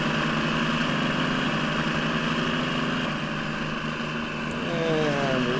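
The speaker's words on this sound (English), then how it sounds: "We got that nice diesel engine in this sucker." A diesel truck engine in the video game Spintires idles steadily with a deep, rumbling throb, holding constant loudness throughout and a faint rising whine near the end.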